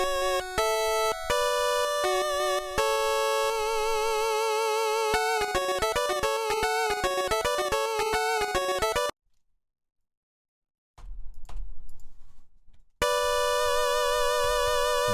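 Chiptune melody of bright square-wave tones in a Mega Man style, played as fast stepping arpeggiated notes, breaking into about two seconds of silence and a faint rustle before the loud synth line returns.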